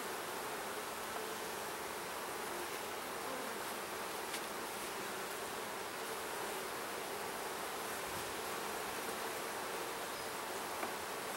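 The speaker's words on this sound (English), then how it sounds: "I can see there's a decent amount of activity and lots of bees in that top brood box" Honey bees in a busy beehive brood box, a dense, steady buzzing hum that holds evenly throughout, faint and close with no voices.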